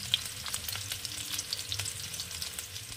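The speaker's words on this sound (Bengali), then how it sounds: "এটা ঠিক আমি সেভাবে আলুটাকে আগের থেকে ভেজে রাখবো" Potatoes fry steadily in a pan of hot oil for Bengali-style shahi aloo dum, giving an even, close, crackling sizzle with faint pops and no voices.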